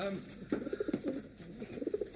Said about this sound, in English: Wilson, my office is alive with pigeons.